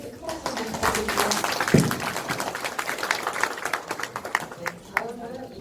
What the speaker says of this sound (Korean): 시장님께 큰 박수 부탁드립니다.